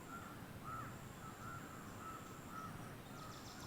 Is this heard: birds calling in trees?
yes